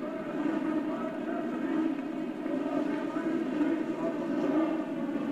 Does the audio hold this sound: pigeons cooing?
no